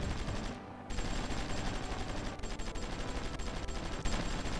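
Artillery pounds away in the strategy game Supreme Ruler Ultimate, a dense, continuous crackle of rapid firing that breaks for a moment early on before resuming at a steady, moderate level.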